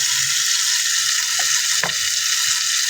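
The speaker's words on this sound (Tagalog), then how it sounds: "Tapos iprito muna natin ang bahilya hanggang sa maluto ito." Pork liempo fries in a pan with a steady, close hiss of sizzling oil throughout, broken by a couple of faint pops and clinks.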